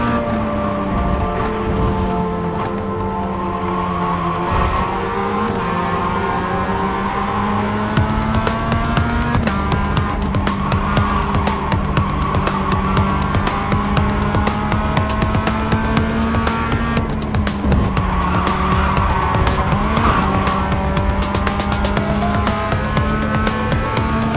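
Mazda MX-5 Cup race cars at Laguna Seca, engines droning loud and steady with rising and falling pitch as they rev through gears, tires faintly squealing, no talk.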